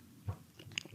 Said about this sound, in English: So, okay, I'm going to try my first ever 3D printed raspberry.